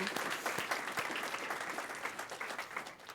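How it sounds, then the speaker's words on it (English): An audience applauds the AFT at an event, a dense, even patter of many hands clapping that holds steady, fairly soft and distant, for the full stretch. "let's give a round of applause to AFT"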